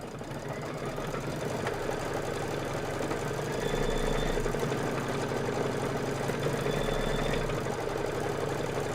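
A sewing machine stitches fabric down for a Kimberbell Cup of Cheer sew-along project, running in a steady, fast mechanical whir at close range with no talk over it.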